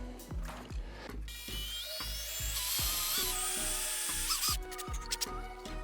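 A hand drill bores out stuck plugs in a broken yoga stool, a whining motor that rises in pitch mid-clip over a steady run of rhythmic knocking strokes, close and fairly loud with no talking.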